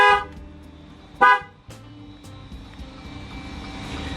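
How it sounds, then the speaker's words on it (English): A Jeep Wrangler JL horn gives two short honks, the first louder and longer, over a steady idling engine hum with no voices. "Now you're in amplified mode when you hear those 2 honks."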